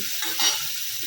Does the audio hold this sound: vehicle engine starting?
no